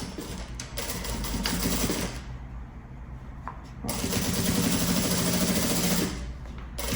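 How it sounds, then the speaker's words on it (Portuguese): A sewing machine stitches a seam across the top of a backpack in two loud, fast bursts of rapid needle clatter, separated by a short quieter pause. "vou passar uma costura aqui em cima, somente aqui na parte de cima"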